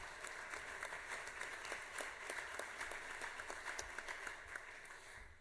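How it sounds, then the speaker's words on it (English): Faint, distant applause from a state legislative appropriations subcommittee meeting room: a soft, steady patter of scattered hands clapping for a chairman, low in level throughout. "let's give Chairman Hatchett a round of applause for his hard work."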